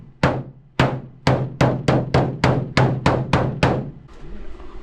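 Eleven sharp metallic hammer blows strike a car hood to force it shut over an Atlas Industries valve cover, landing in a steady rhythm that speeds up slightly, loud and close, followed by a faint rustle.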